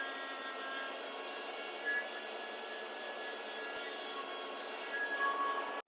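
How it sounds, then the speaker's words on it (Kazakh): An electric meat grinder runs steadily while mincing tomatoes and peppers, a constant close motor whine with faint tonal hum that swells briefly near the end before cutting off abruptly. "Енді ең бірінші ет тартқыштан қызанақты өткіземін."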